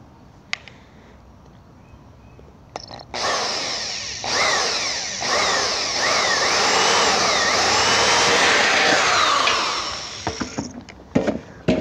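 Power drill boring holes through the steel of a Weber Smokey Joe grill being built into a mini smoker, with a loud steady whine, a couple of short starts, then a long continuous run near the mic.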